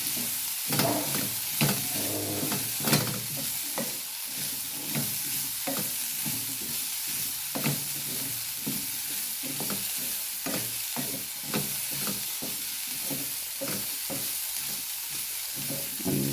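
A pan of Kerala-style thoran made with grated coconut, turmeric and ground spice paste is stirred steadily, with a spoon scraping and clicking against the pan in a repeated rhythm over a constant sizzle, close and clear, with no voices.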